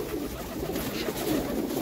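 Red Amritsari pigeons in a loft coo softly in low, rolling murmurs, close but faint over a brief stretch.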